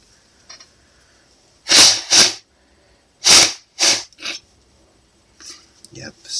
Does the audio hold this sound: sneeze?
yes